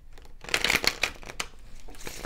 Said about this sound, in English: They are pre-shuffled, but I want to give them a few more shuffles.